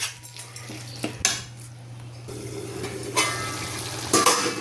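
A spoon stirring yogurt and mint into a pot of poha biryani, clinks and scrapes against the metal pot over a low hum and soft sizzle, with no talking.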